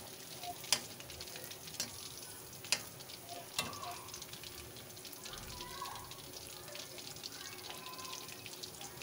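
Food frying in oil in a kitchen pan, stirred steadily with a spoon: a faint, continuous sizzle with a few sharp metallic clinks from the spoon striking the pan.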